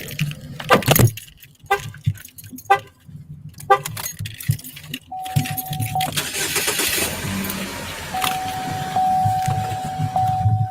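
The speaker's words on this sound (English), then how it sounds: "Door shut." A car door thumps shut after keys jangle and rattle near the car; engine noise and a faint electronic chime follow, with some voice in the background.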